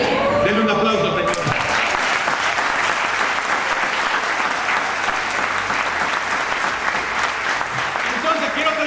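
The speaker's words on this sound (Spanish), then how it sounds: "Denle un aplauso, Señor." Audience applause at a Spanish-language religious talk about overcoming fear, a sustained loud wash of clapping that rises after a brief spoken opening and holds steady to the end.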